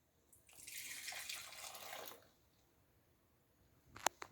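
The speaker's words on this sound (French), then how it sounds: "je vais transvaser ce lait dans le bol" Warm milk pours into a bowl in a soft, liquid stream lasting about two seconds, fairly quiet and close, followed by a pause and a brief clink near the end.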